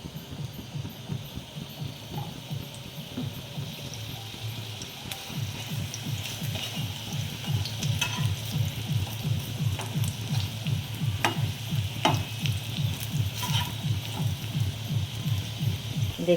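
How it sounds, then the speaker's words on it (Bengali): Pitha shaped by hand and stuffed with potato and egg frying in a little oil in a hot pan, a steady sizzle with soft stirring and scraping, continuous and close. "অল্প তেল দিয়ে আমি ভেজে নেব।"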